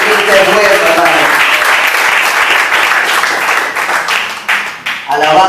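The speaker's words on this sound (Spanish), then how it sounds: "¿Me puede dar esa ofrenda de aplauso al Señor, hermano?" Church congregation applauding during a Spanish-language service, loud sustained clapping that fills the room and tapers off near the end as a voice resumes.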